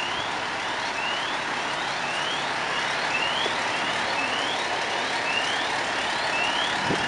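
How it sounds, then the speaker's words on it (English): A steady series of rising electronic chirps repeats at even intervals, moderately distant, over a constant broadband hiss of traffic or engine noise. "I don't know why it's doing that alarm sound."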